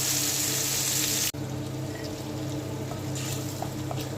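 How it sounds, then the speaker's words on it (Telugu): Masala paste dropped into hot oil for a fish curry, a loud broad sizzling hiss that cuts off abruptly, then a quieter steady frying crackle continues. "ఆయిల్ హీట్ ఎక్కింది. పేస్ట్ వేసేసుకుందాం."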